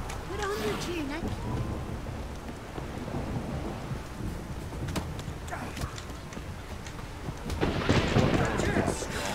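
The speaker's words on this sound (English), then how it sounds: "It's raining." Rain and rolling thunder in The Witcher 3, a steady wash of rainfall with low rumbles swelling louder near the end, a few faint hoof clops and brief game voices mixed in.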